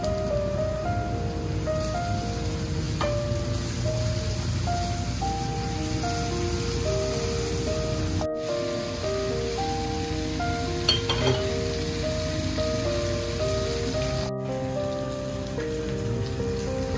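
Steady, continuous sizzling of onions browning with ground ginger and garlic in a pan, a dense hiss with occasional clinks, heard alone without talk.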